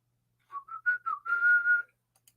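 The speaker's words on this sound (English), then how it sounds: "I just can't whistle anymore like I used to" A person whistles a short, thin, wavering tune of a few breathy notes, the last one held longer, close and alone in a quiet room.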